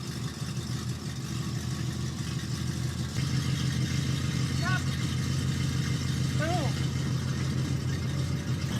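A dually pickup truck's engine runs steadily while towing a trailer, a constant low rumble that holds throughout with a slight rise partway, with faint higher squeaks on top.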